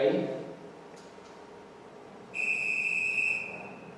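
A sharp, shrill futsal referee's whistle blast lasting about a second, heard over a murmur of background voices in a large room.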